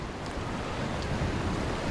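Constant roaring rush of water at the first major rapid of the Shivpuri section of the Ganges near Rishikesh, heard from a raft, loud and unbroken with wind buffeting the microphone.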